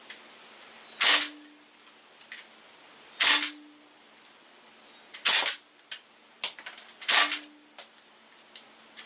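Four sharp, evenly spaced shots from a Sig MCX/MPX CO2 air rifle firing pellets, each a crisp pop with faint clicks and rattles between them, close and loud against a quiet background.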